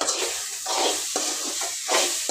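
Ivy gourd (tindora) frying in a pan with only a little oil while being stirred, giving a steady close sizzle broken by repeated scraping strokes of the spoon.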